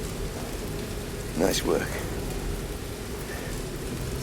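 Steady rain pours throughout in Tomb Raider Definitive Edition, a dense hiss with a brief louder swell midway and a short spoken line over it.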